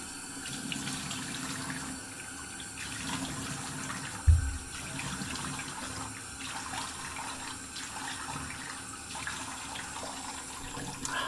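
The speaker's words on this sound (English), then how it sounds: "I'm going to do a warm water rinse" Warm tap water runs steadily from a faucet into a sink for a face rinse, a soft continuous splash with one brief thump partway through.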